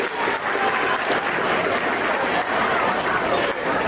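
Standing ovation from a youth summit audience, thick, sustained clapping from many hands at full volume with no break across the whole stretch.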